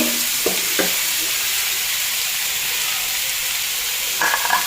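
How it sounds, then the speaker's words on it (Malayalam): Vegetables for a chicken sandwich filling, cabbage among them, frying and being stirred in a pan, a loud continuous sizzle with a few brief scraping knocks of the spoon near the start and end. "നമ്മൾ ഇളക്കി ഇളക്കിക്കൊണ്ടിരിക്കുകയാണ് നമുക്ക് ഇളക്കി കൊടുക്കാം"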